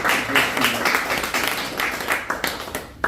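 Applause from a church gathering in Korean-American community, steady clapping of a crowd at moderate distance, sustained for a few seconds without speech.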